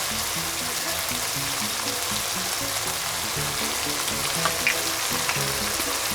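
Sheep tripe fries in a pan with a constant, close crackling sizzle like light rain, a few faint clinks showing through near the end.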